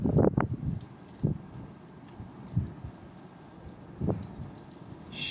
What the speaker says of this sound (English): Big wind gusts coming in.